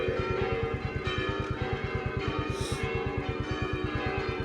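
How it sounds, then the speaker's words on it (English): Church bells ring out on a Sunday shortly before Christmas with a fast, even run of loud strokes that carries through the whole stretch, with no talk over it. "bells are ringing"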